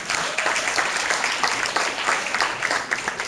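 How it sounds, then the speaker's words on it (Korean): An audience at a wedding planner lecture claps together in a dense, steady burst of applause that carries evenly from start to finish without letting up. "여러분 제 말씀에 좀 공감이 있으면 박수 한번 쳐주시기 바랍니다"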